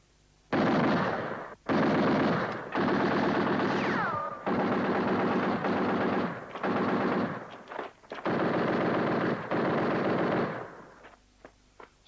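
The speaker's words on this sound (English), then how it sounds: "Fire a few rounds." Bursts of machine-gun fire in a WWII desert battle at El Alamein, several sustained volleys of rapid rounds, loud and close, with brief gaps between them and no talk.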